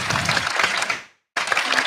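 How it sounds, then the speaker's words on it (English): A burst of crowd applause from a podcast soundboard plays loud and close, cuts out for a moment of silence, then returns with the same dense clapping. "You gave yourself applause."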